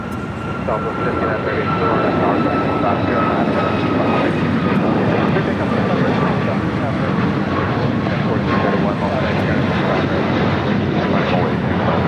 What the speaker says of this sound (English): Next takeoff, heading to Miami, Florida. American Airlines flight 2143, a 737 MAX 8.